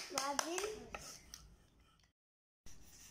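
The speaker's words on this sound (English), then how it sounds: "Clapping. Wow, clapping." A young child claps hands a few times, short sharp pats close by at the start, mixed with a voice before a brief silence.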